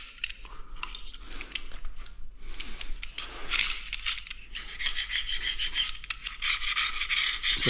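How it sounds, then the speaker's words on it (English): A scraper rasps glue off tiles in repeated close, gritty strokes, continuous harsh scraping that grows louder and more rhythmic toward the end. "You just get a scraper and scrape it off."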